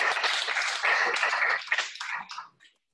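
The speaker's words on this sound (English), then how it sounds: "So just a round of applause for our presenters." An audience in a room at the Mackay Environment Centre gives a round of applause for the presenters. The close, dense clapping thins out and dies away after about two and a half seconds.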